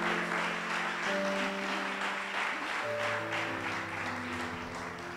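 A church congregation claps in a broad, even burst of applause while sustained organ or keyboard chords play beneath, the clapping steady throughout.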